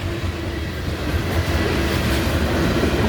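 A CSX train rumbles steadily past a crossing on River Road in Chapel Hill, Tennessee, a loud, continuous roar of rolling cars heard up close with no voices.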